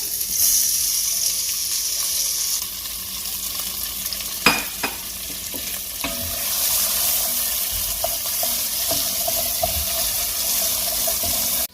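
A chopped medium-sized white onion fries in a pan on medium heat, a steady loud sizzle running throughout with scattered utensil clicks and taps as it is stirred, no voices.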